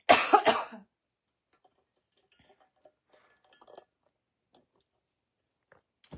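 A person recovering from a cold coughs a couple of times, close and fairly loud at the start, followed by near silence with faint ticks and small clinks.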